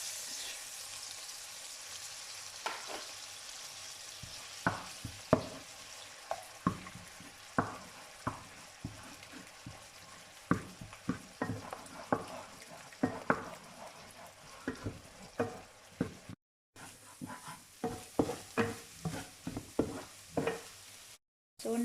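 Pork and eggs are stir-fried in a pan for Thai noodles, with a soft constant sizzle under repeated rhythmic scraping and tapping of the spatula as the food is tossed, close and fairly quiet.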